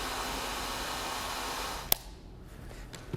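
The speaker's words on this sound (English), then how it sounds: "Whip out your hairdryer and give it a couple of minutes." A hairdryer blowing on paint dabbed onto fingertips, a steady whooshing hum that cuts off with a click, leaving quiet room noise.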